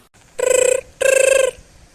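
A cartoon telephone rings on an outgoing call, two loud, even electronic ring bursts with a short gap between them and no speech.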